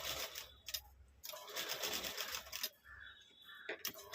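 A sewing machine stitches a velvet blouse in short, near bursts of whirring separated by brief pauses, loud against a quiet room.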